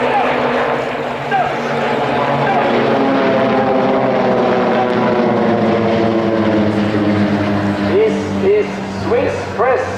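Swiss Air Force PC-7 propeller aircraft fly an airshow display at Kleine Brogel, a loud, sustained engine and propeller drone with shifting pitch throughout, under an announcer's voice.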